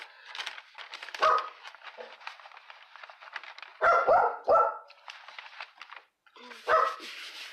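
A dog barks in a string of sharp, close barks, with a few louder bursts standing out, heard indoors during a craft session.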